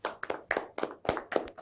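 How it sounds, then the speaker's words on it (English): A group of students claps hands in a classroom, a short burst of about six to eight sharp, uneven claps over under two seconds, close and moderately loud. "Clap hands for him."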